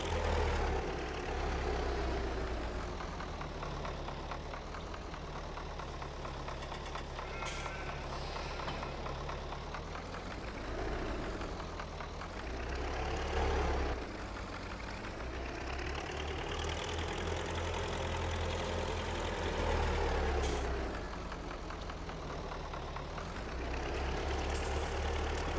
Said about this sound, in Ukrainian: Трактор аж бужляє.